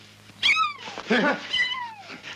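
A small kitten meows twice, with drawn-out, rising-then-falling cries close by. A brief murmur of background voices sits between the meows, in a scene from the Argentine comedy film Los colimbas al ataque.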